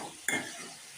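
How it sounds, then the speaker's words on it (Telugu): Tomato and ivy gourd pieces fry in oil with a soft sizzle, broken by two sharp stirring scrapes against the pan, close and fairly quiet. "నెక్స్ట్ టమాటో, దొండకాయ ముక్కలు కూడా వేస్తానండి ఆయిల్లో."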